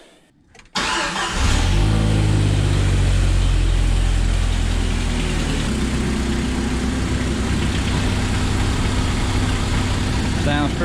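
A 1997 Jeep TJ, just fitted with a new exhaust manifold gasket, cranks briefly and fires up. The engine catches with a rev, then settles into a steady, loud, close-up idle for the rest of the clip.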